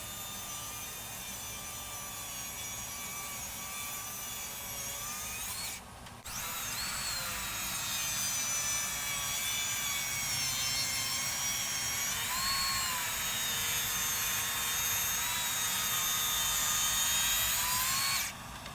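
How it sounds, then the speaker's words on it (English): A Makita 36 volt track saw cuts through wood in one long pass, a loud sustained high-pitched motor whine with a brief dip near the start and slight pitch shifts as the blade moves through the board. "the Makita 36 volt track saw did that in one pass"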